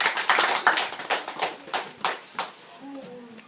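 Brief, scattered clapping from a small audience at a high school math debate, a handful of sharp claps in an uneven rhythm that thin out after about two seconds, heard up close with no talking.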